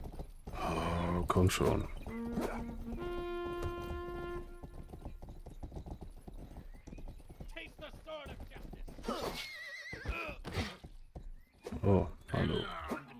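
A horse in the video game Rustler neighs and its hooves clip-clop amid game sounds, with a steady musical tone in the middle, while someone talks over much of it.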